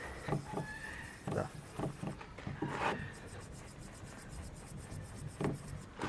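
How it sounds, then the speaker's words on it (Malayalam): Polish rubbed by hand onto a scratched, yellowed car headlight, a quiet rhythmic scrubbing with repeated short strokes in uneven bursts, close and faint. "ഈ ഒരു സാധനം ഉപയോഗിച്ചിട്ട് ഒന്നിങ്ങനെ തേച്ച് കൊടുക്കുക."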